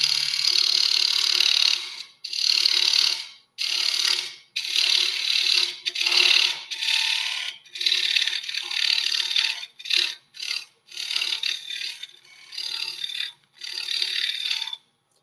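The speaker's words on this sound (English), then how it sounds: "I'm using a carbide tip as my scraping tool." Carbide-tip scraping tool shaping a tenon on a spinning wood lathe during a club demonstration, giving a steady close rasping, rattling chatter in repeated bursts of a second or two separated by short pauses.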